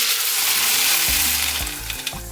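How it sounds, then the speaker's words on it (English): Dry pasta goes into a pot of boiling water for mac and cheese: a steady bubbling hiss, then a few dull, soft drops and splashes toward the end, with no talking. "Once it starts boiling, we add our pasta."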